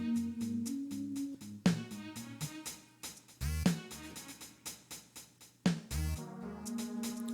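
MPC drum machine playing a programmed sequence, a steady beat of crisp hi-hats and punchy kicks and snares under a looping bass line with some heavier hits, clear and close with no talk.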